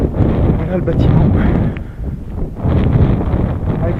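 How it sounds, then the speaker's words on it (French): Wind blows around an abandoned holiday camp building, a loud buffeting rush against the microphone that swells, eases briefly, then surges again, with faint rustling. "Avec le vent, je pense que ça va faire un peu du bruit."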